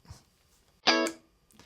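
Electric guitar through a Two Notes Genome with the reverb switched off: a short, dry distorted chord stab with a hard, abrupt cutoff and no tail, loud and alone.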